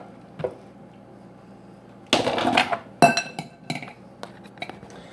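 Macaroni and cheese spooned into a bowl, with a few sharp clinks and knocks of utensils against dishes, loud and close after a quiet start and then spaced out in smaller taps.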